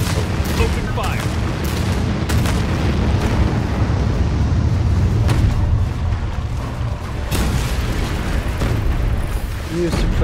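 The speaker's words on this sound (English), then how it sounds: "Wait for the boom. Launch it. Nuclear missile." A nuclear missile launches and detonates in the futuristic strategy game Anno 2205, giving a sustained loud rumble with repeated booming blasts, while game voice lines speak over the din.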